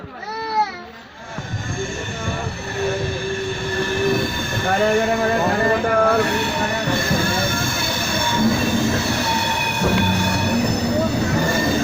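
A passenger train running from Anand Vihar to Sealdah rumbles steadily and loudly, with long high wheel squeals and rattling carriages throughout and faint voices underneath.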